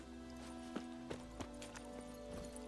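Geralt's horse Roach trotting in The Witcher 3, steady hoof clip-clops with a few sharper strikes over a constant droning in-game background hum, faint and fairly close.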